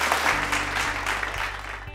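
Dense, close clapping from an audience cheering a quiz team at a regional quiz competition, sustained for a couple of seconds with a low hum underneath.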